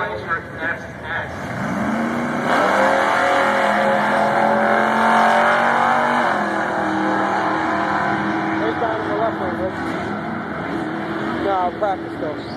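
A 2WD Chevrolet TrailBlazer SS accelerating down a drag strip, the engine note rising steadily and loud throughout, with a track announcer talking over it.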